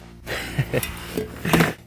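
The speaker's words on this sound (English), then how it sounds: "we have a frying pan and we have a little silicone spatula" A frying pan and a small silicone spatula handled at a cold mountain campsite, a few dull clanks, scrapes and knocks of metal cookware at close range, moderately loud, with no talking.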